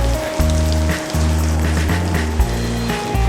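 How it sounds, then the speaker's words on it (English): Steady rain patters as a constant hiss beneath a loud, droning low hum that pulses on and off, all at close range. "To get out of the rain and warm up a bit, Steve took Greg and Michael out to a local"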